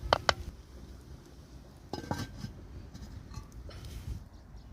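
A lid clinks onto a pot of green chickpea curry with two quick metallic taps near the start, followed by softer clatter and faint kitchen handling noises.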